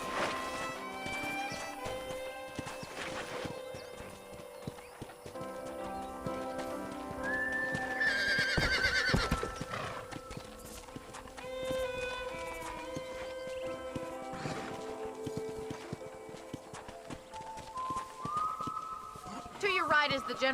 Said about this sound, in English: I picked out a fine horse for you. Gee up!